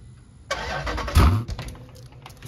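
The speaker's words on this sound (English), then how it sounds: "We're gonna hit this auto start." A Jeep Grand Cherokee SRT8 with a muffler delete cranks and fires up by remote auto start, a sharp loud catch followed by a rough, throaty idle that settles down.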